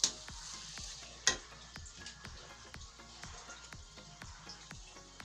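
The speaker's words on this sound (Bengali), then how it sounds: "দিয়ে আবারও ভালো করে নাড়াচাড়া করে নেব," Semolina halwa with sugar being stirred in a pan, with a steady series of soft scraping strokes at a regular rhythm, a louder clack near the start and a low sizzle underneath throughout.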